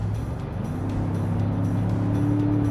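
A Land Rover Defender Octa engine idles and hums steadily up close, a deep, even rumble with a slight rise toward the end.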